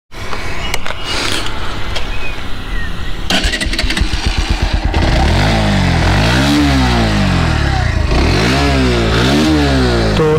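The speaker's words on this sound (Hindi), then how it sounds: "एग्जॉस्ट नोट स्टार्ट करते हैं हम लोग पहले इसका," A 125cc motorcycle, a Bajaj Pulsar NS 125 or TVS Raider 125, starts up with a brief crank and clatter, then its exhaust note settles into a loud, close idle broken by several sharp throttle blips rising and falling.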